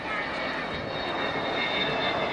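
Avro Vulcan XH558 jet bomber flying past, a steady, broad roar of jet engines filling the air without a break, loud and close.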